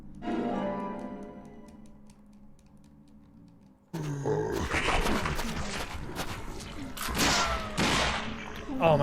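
Gunfire in the video game Deadly Premonition crackles in rapid bursts over a chaotic, loud game soundscape, following a quieter musical stretch.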